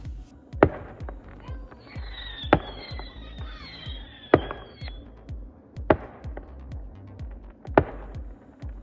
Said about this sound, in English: Fireworks. We're waiting for more fireworks.